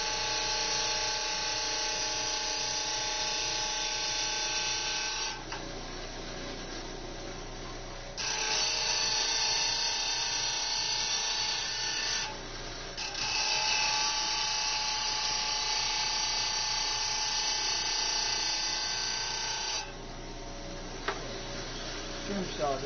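A trim saw cutting hard stone for knapping gives a loud, steady high whine that runs in long stretches, with short drops in pitch and level between cuts.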